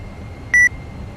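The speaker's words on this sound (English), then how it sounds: "A Windows shortcut sound." A single short electronic beep like a Windows shortcut alert, heard during an Airbus A320 flight simulation session, sounding once as a clean steady tone over a quiet background hum.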